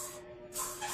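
Cleaning spray hisses from a handheld spray bottle in two short close bursts, the second one louder and longer, with no voices.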